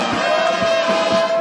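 A crowd in Ituri gathers to welcome the PDDR-CS coordinator, a dense, steady roar of many voices and cheering held close and loud for a brief moment.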